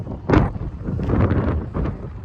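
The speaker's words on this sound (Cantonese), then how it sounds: "不過今日都幾大風啊吓！" Strong wind at a Japanese seaside, gusting in short, rumbling buffets against the microphone, loud and close, with brief lulls between blasts.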